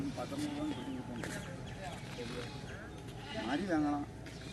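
Goats bleating at the Kadayam goat market, several wavering calls rising over a busy crowd with steady background chatter and market noise, one louder bleat near the end.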